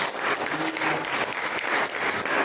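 A classroom of students claps together during a lesson, a steady dense patter of hands lasting the whole stretch at moderate loudness, with no voices over it.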